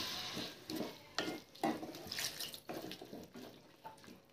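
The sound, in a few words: water poured into frying pan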